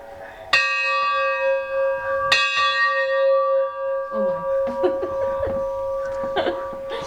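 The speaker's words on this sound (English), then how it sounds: "has to ring the bells" Two sharp bell strikes about two seconds apart, each ringing on with a long sustained metallic hum, followed by laughter and chuckling over the fading tone.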